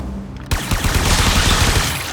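Rapid automatic gunfire from the video game Warframe, aimed at an alien hive, bursting in loudly after a brief pause and continuing as a dense, sustained volley of close shots.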